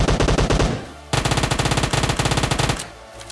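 Close, loud automatic fire from an Uzi submachine gun in the PUBG Mobile battle royale game, rapid bursts with a short pause near the one-second mark, then a second long burst that ends in a brief tail.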